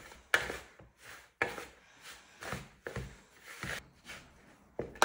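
Flour being mixed by hand into dissolved yeast for focaccia dough, close, fairly quiet stirring strokes that knock and scrape in a steady rhythm about every half second.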